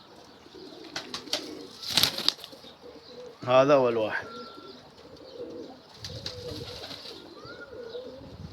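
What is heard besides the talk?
pigeons cooing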